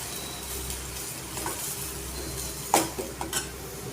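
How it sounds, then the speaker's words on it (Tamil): Onions sautéing in a pan for egg podimas, a low continuous sizzle under a faint hum, then a sharp clank of a utensil against the pan followed by a few lighter taps. "வெங்காயத்தை நல்லா வதக்கணும்."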